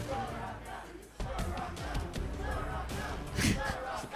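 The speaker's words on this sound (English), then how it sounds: "banana chant going on in the crowd" A large crowd at a League of Legends esports tiebreaker between Team Liquid and CLG chants rhythmically as a banana chant, steady, broad and fairly distant under casters talking.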